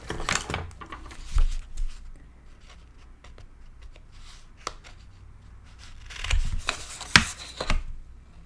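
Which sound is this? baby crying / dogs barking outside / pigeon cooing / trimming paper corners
trimming paper corners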